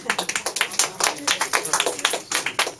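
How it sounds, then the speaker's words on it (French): Applause at a hospital farewell gathering for departing medical interns: a thin, scattered clapping from a small group, steady and fairly close, with no talk over it. "Je trouve que les applaudissements ne sont pas très nourris."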